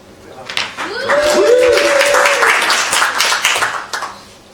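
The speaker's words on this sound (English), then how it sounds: "That sounded more like a kind of intellectual clap at a symposium" A small audience at a live English stand-up comedy show claps in a thin, scattered way for a few seconds, and a voice whoops over the applause.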